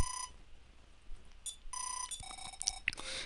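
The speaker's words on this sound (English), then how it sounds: "Telephone, telephone, Dan Link, please get it." Electronic telephone ring from the NES-era game EarthBound Zero, bright chiptune beeps in short bursts with tonal game music and sound effects around it.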